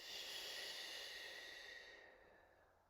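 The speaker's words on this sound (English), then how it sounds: "Let's take a deep breath." A single long, deep exhale, close and steady, breathy and airy, fading gradually toward the end in a quiet room.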